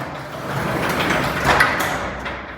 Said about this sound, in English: this door can just lift up manually